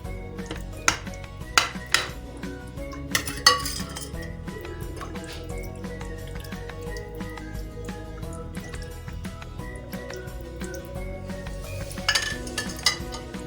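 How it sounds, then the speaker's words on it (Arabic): Soup is poured over stuffed cabbage rolls in a pot, giving soft liquid pouring and trickling beneath scattered clinks and knocks of a pot and utensil, several sharper metallic taps standing out. "خلاص هحط بقى الشوربه كده على المحشي"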